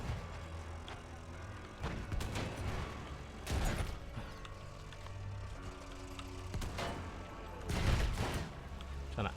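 A tank approaching in Battlefield 1, heard as a mechanical rumble with creaking tracks and clanking, broken by several sharp gunshot bursts and thumps at irregular intervals.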